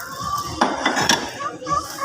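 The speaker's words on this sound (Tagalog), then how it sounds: "Mga kaldero diri guys." Metal cooking pots knock and clink together in a couple of bright, sharp clusters over a steady background murmur, at moderate distance.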